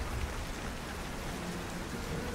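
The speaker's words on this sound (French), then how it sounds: "Et il pleut des cordes." Heavy rain pours down in a dense, steady hiss with no breaks, loud and close throughout, with no voices.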